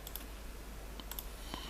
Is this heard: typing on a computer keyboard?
yes